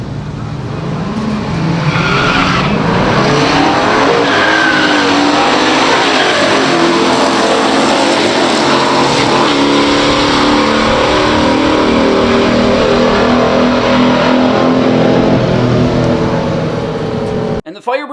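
A 1968 Pontiac Firebird Ram Air II and a 1967 Chevelle SS launch side by side down a drag strip in a pure stock race, tires squealing before both V8s roar at full throttle, loud and sustained, with voices talking over it.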